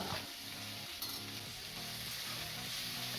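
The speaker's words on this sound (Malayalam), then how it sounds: "അതിലിളക്കി യോജിപ്പിച്ച് അതിലേക്ക് അരിഞ്ഞു വെച്ച ഇല ചേർക്കുക" Chopped kodithoova leaves and dried red chillies frying in hot oil with rice for a thoran make a dense, continuous sizzle and hiss, close and loud, with stirring over it and no speech.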